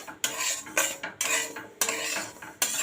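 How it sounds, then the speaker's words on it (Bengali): A spoon scrapes and clatters against a pan as semolina is stirred and dry-roasted until reddish for halwa, in about four distinct, repeated stirring strokes, close and fairly clear, with no talking. "সবসময় নাড়তে হবে দেখুন বন্ধুরা একবারে সুজিটাকে লাল করে ভেজে নিয়েছি"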